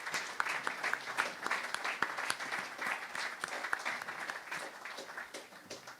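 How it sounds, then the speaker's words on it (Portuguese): Crowd applause at a political rally in Aveiro, Portugal, a dense, continuous patter of many hands clapping at moderate distance, slowly tapering toward the end. "uma grande salva de palmas para vocês"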